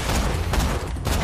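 Gunfire in the video game Borderlands 2, a brief, dense rattle of rapid shots packed tightly together, loud and close with no clear gaps.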